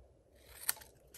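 A single quick snip of scissors cutting through paper during a stamping craft project, faint and close, in a quiet room.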